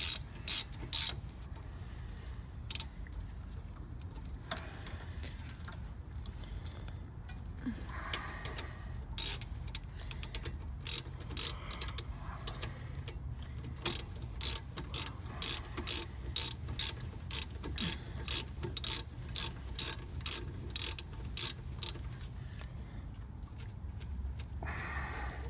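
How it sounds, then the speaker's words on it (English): A 14mm socket wrench ratchets on rear brake parts of a 2013 Subaru Forester, with scattered clicks at first, then a fast, regular series of sharp pawl clicks building through the second half, close and distinct. "14mm socket wrench."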